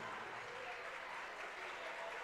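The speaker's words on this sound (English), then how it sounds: "one final round of applause from the Danville fans" Danville fans applaud at a basketball game, a dense, steady wash of crowd clapping that fills the whole stretch at an even level.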